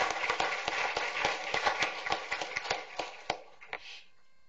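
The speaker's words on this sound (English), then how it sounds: "a big round of applause" Applause at a school district board meeting, a scattered round of handclaps from a modest audience that thins out and stops after about four seconds.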